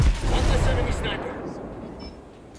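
A grenade blast in the tactical shooter Ghost Recon Breakpoint hits hard and loud at the start, then its deep rumble slowly fades while voices talk over it.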